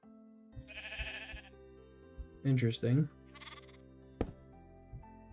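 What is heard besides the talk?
sheep bleating in a video game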